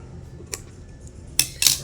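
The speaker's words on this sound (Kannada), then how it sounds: "ಇವಾಗ ಟೇಪ್ ಕಟ್ ಮಾಡೋಣ" Scissors snip through a ribbon tape at a website launch: a faint click followed by two sharp, close snips in quick succession near the end, over a quiet room.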